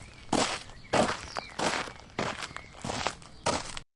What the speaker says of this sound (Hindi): अचानक उसे किसी के चलने की आहट सुनाई दी।